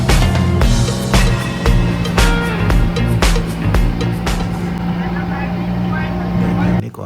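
A loud boat engine drones and throbs close by during a river trip to Kampong Phluk near Siem Reap, a steady low rumble with periodic surges that fills the whole stretch.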